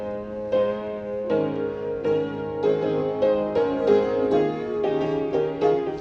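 A piano played with the sustain pedal on the hymn "I Stand Alone": chords ring into each other in a smooth, connected wash, close and even in loudness, with no talk.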